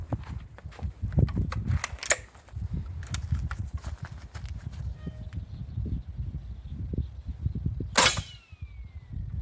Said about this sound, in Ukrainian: Рикошет чули.